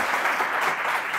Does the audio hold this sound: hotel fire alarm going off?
no